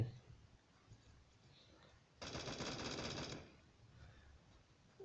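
A burst of rapid automatic gunfire from the shooter game Bullet Force rattles for about a second, fairly loud over quiet game ambience, with faint talk around it.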